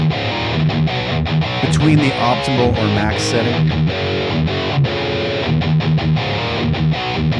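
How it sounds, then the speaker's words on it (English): Distorted electric guitar tone recorded through a MOTU Ultralight audio interface, with loud, continuous chugging chords and riffs while someone talks over part of the playing. "Let's go over to some distorted tones and take a listen to these. Starting off with the Motu Ultralight."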